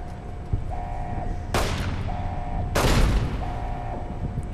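Two sharp, loud gunshots about a second apart in Fallout New Vegas, each with a bright crack and a short decaying tail, over a steady low game hum with a repeating tonal chime.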